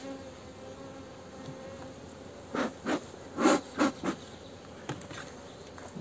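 Honeybees of an artificial swarm built on two frames buzz close by in a low continuous drone, with several louder swells of buzzing as individual bees pass near, and no talk.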